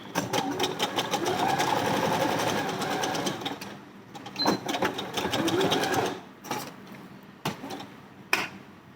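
A sewing machine double stitches a curved dart on a blouse in rapid bursts of fast ticking needle strokes, pausing and restarting several times, close and clear.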